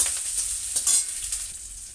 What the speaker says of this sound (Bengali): এগুলো একটু হালকা ভেজে নেই।